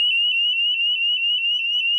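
A smoke detector alarm sounds continuously, a loud piercing high-pitched electronic tone with a slight rapid warble, steady and unbroken with no other sounds.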